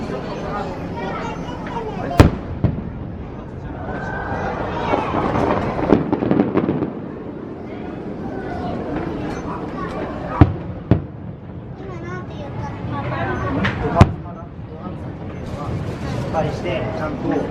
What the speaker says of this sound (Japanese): 今日花火はね、まだあと1時間ぐらいかかりますよ。